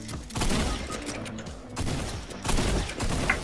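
Rapid gunfire in the battle royale video game Fortnite, dense loud bursts of shots in quick succession forming an almost continuous crackling barrage with brief dips in intensity.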